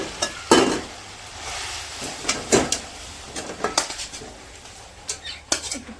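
A spiced paste-and-oil mixture is sautéed in a pan, with intermittent scraping and clanking of a spatula against metal over a low sizzle, the strokes irregular and close.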